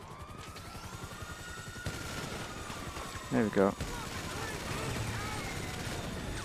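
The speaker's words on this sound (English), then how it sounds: "So the minigun's the best option." Dense, rapid minigun fire in GTA Online rattles continuously under someone speaking, with a few sharper bursts standing out midway.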